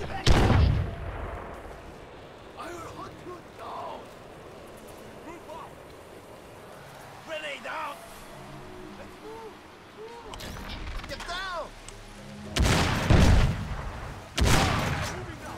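Grenade blasts and gunfire from the video game Crysis: a loud broadband burst at the start, then scattered shots and chirpy effects under a faint voice, ending in two heavy explosive bursts close together.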